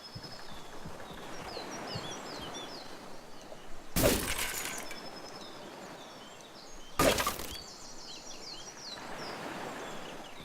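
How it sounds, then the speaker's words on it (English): Glass shatters twice in the video game Olorun: Theocracy, two sharp, bright crashes about three seconds apart over a steady outdoor ambience with chirping birds. "Glass shards."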